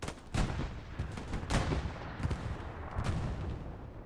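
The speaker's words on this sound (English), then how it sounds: "That sounded unhealthy. That was probably an explosion of a tank that didn't get protected anymore." Battle noise from the World War II video game Hell Let Loose: a tank explodes amid gunfire. Sharp cracks and booming blasts repeat irregularly over a constant rumbling background, with no voices.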